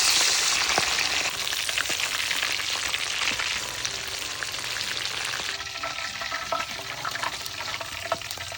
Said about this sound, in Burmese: အမေဝယ်ထားတဲ့ငကြင်းလေးကိုအရသာလေးနေပြီးတော့ကြော်လိုက်ပါအောင်မယ်